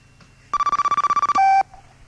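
A telephone rings with an incoming call on a 1997 radio talk show, a loud rapid burst of warbling electronic pulses followed by a short steady tone, close and alone.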